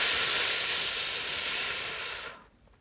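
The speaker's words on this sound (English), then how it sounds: "You want to think about exhaling out of a straw," A steady, breathy hiss of air pushed hard through pursed lips, like blowing through a straw, holding for over two seconds before cutting off.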